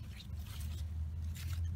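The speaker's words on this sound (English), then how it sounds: "I'm going to start first by trimming off all these leaves" Short snips and rustling scrapes come from cutting leaves off a plant's main stem, close up and soft, in a couple of quick bursts over a low hum.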